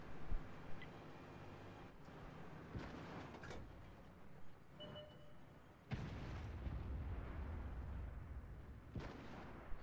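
An IS-8 tank and its enemies trade fire in World of Tanks, heavy cannon shots and explosions booming at irregular intervals, some near and some distant, with one loud blast partway through and a rumbling aftermath.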